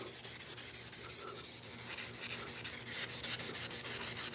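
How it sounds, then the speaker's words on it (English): Steady back-and-forth hand sanding of wood with sandpaper, rhythmic rasping strokes about three or four per second, close and continuous with no voices. "Take sandpaper."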